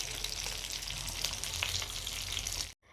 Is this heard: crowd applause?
no